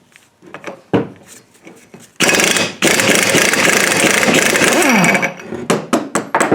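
A Dixon lawn mower engine runs loud and steady for a few seconds, rough and broadband, then cuts back to quieter clunks and knocks of work nearby.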